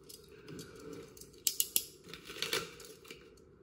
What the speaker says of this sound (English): Just trimming away the excess here, because excess wrap will always get in the way and be annoying.